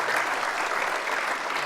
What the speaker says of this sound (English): So if you guys could give him a round of applause too